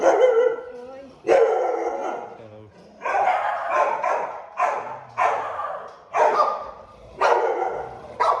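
A dog barks loudly and repeatedly, about eight sharp barks spaced roughly a second apart, close by, with a person talking in between.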